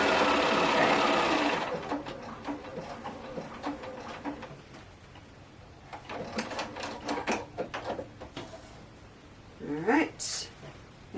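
A sewing machine stitches fabric at a quilting desk, opening with a loud steady whir, then running in shorter bursts of rapid mechanical clatter, with talk and a brief birdlike coo in the background.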